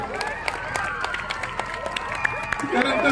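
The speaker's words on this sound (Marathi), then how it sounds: "टाळी बजाते जाओ." Audience at a Banjara poetry gathering for Sevalal Maharaj Jayanti in Beed claps and cheers continuously, a dense crowd applause with murmuring voices mixed in, swelling slightly near the end.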